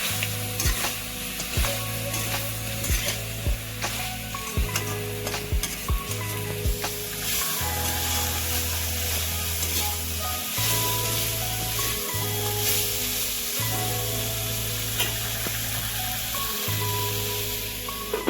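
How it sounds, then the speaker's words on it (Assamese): Chicken pieces with turmeric and salt sizzle steadily in a hot pan while a spoon scrapes and stirs them, with repeated low scraping strokes over continuous frying hiss, close and fairly loud throughout. "আকৌ এতিয়া মই ভালদৰে লৰাই দিম মাংসখিনি"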